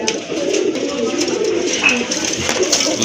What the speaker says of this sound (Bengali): এটা হচ্ছে রাজগোল্লা কবুতর মাশাআল্লাহ